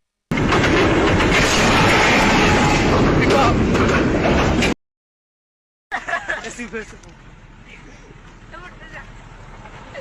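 A loud, roaring rumble of a passing train dominates, cuts out abruptly, then returns as a fainter clattering rumble with some noise on top.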